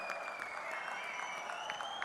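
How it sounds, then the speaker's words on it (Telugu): An audience at a Mahanadu 2025 gathering claps steadily in honour of donors who gave money, a continuous wash of applause at moderate distance, with a faint voice and a sustained whistling tone running underneath. "గట్టిగా చప్పట్లు కొట్టి మనస్ఫూర్తిగా అభినందించండి"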